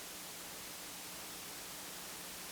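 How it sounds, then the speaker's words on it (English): A steady, broadband electronic hiss from the preamps of a no-input mixing board, flat and unchanging, with nothing else playing. "That's a beautiful hiss."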